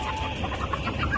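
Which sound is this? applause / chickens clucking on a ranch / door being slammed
chickens clucking on a ranch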